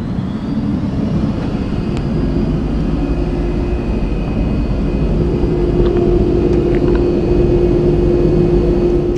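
A turbine-powered car engine running steadily, a loud continuous whine and roar much like an aircraft turbine, with a constant tone throughout and no talk.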